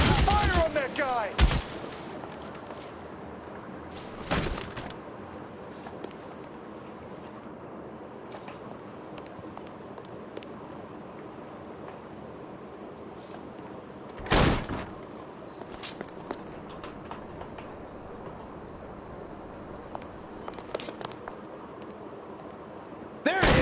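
Gunfire in an L.A. Noire shootout arrives as a few isolated loud shots spaced seconds apart over a low background hum, with quieter rustling and movement between them.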